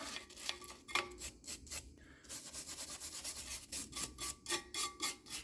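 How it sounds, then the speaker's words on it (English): A brush scrubs a sprayed brake caliper before painting, making quick rhythmic back-and-forth rasping strokes with a short pause. The strokes are close and fairly soft, with no talking. "And then we'll just take it and brush it."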